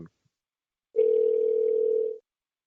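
A telephone dial tone plays while numbers are being dialed, a steady loud hum lasting just over a second after a short quiet gap, then cutting off into silence.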